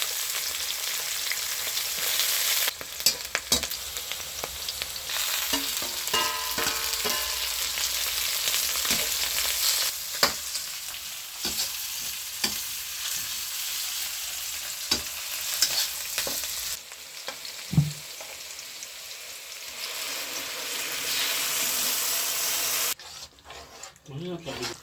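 Raw cashews, capsicum and onion fry in oil in a kadai with a steady loud sizzle, broken by frequent scrapes and clinks of stirring throughout.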